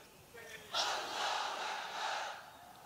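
A large crowd at an outdoor religious rally in Sylhet roars a takbir chant in unison, one sustained mass shout swelling suddenly and holding loud for a couple of seconds.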